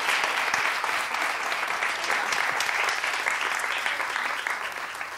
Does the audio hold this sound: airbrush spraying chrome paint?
no